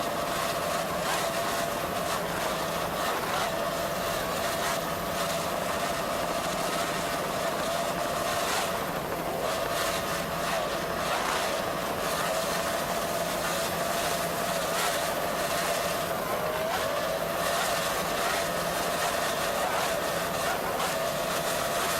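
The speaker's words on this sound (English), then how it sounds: "Let's listen to those three 300 horsepower Mariner outboards." Three 300 horsepower Mariner outboard engines power a racing boat in a stock outboard class race, giving a steady, continuous loud drone with a sustained tone, heard from a distance without changes in pitch.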